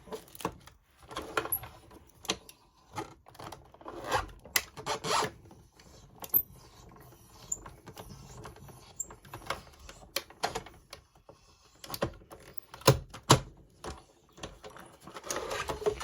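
A paper and foil sandwich is cranked through a Spellbinders Glimmer foiling machine, producing irregular clicks, rubbing scrapes and ratcheting bursts up close, with no talking.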